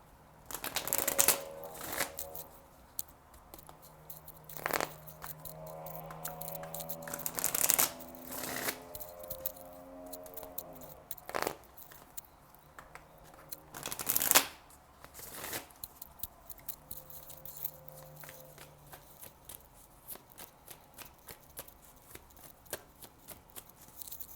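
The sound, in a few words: shuffling tarot cards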